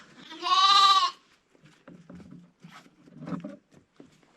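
A goat being fed cracked barley lets out one loud, close bleat, followed by quieter rustling and munching sounds.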